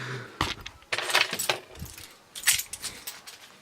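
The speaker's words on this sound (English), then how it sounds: "I just go grab my keys" Keys jangle and clink in a few quick bursts close by, picked up from a set while someone gathers them up, with short metallic rattles spread across a few seconds.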